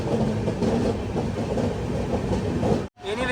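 An unidentified train with no name board rolls past close by, a continuous heavy rumble and wheel clatter that holds steady for a few seconds before cutting out abruptly.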